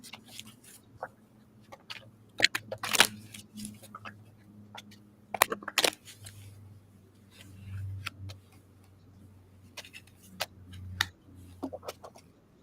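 Tarot cards being shuffled make sharp, irregular riffling bursts and soft taps that come and go, close up over a quiet room hum.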